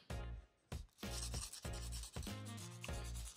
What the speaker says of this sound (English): Here I sand it down until I get the right amount of rust off the blades.